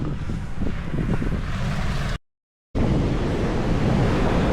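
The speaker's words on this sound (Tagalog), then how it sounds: "Wow, ang ganda ng dagat." Surf rolls in at Dahican Beach in Mati, Davao Oriental, a steady wash of breaking waves with wind buffeting the microphone, briefly cut out midway, and no voices.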